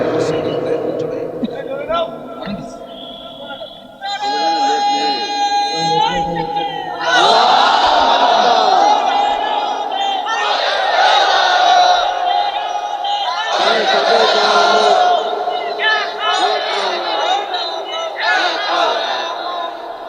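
A crowd at a religious sermon in Satkhira loudly chanting slogans in call-and-response, with a lead voice and many voices answering together in strong repeated bursts.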